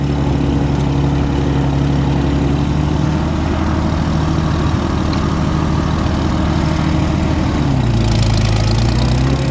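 A 1937 Oliver Hart Parr 70 tractor engine runs loud and close in first gear with a steady, throbbing low drone whose pitch dips briefly near the end. No voices intrude.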